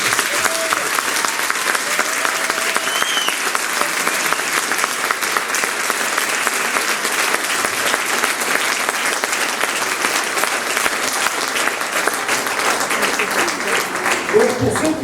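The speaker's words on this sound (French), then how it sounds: "je pense qu'on peut l'applaudir. Bravo Pascal." A theatre audience gives Pascal a long, sustained round of applause at an amateur theatre show, dense even clapping that holds steady throughout, with faint voices mixed in.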